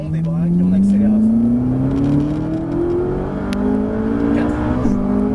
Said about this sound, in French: On débraque et on accélère à fond.